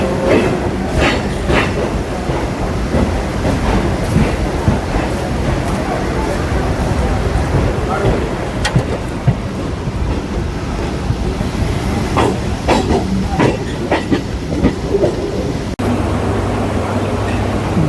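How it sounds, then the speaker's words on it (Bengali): Kolkata Circular Rail local train running on its tracks, heard from aboard as a continuous loud rumble with rhythmic clickety-clack joints, wheel clanks and some rattling throughout. "আমাদের ট্রেন এখন থার্ড লাইন হয়ে ফোর্থ লাইন দিকে যাচ্ছে"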